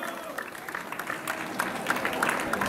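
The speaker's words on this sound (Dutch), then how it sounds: "Geef ze een applaus." A crowd applauding at a village fair cycling race: scattered, fairly faint clapping builds slightly over a few seconds amid outdoor crowd noise and some voices.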